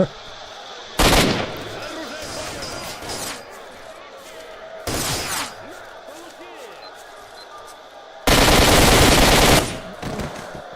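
Three loud bursts of AK assault rifle fire in the video game STALKER, separated by pauses, with a voice talking underneath and in the gaps.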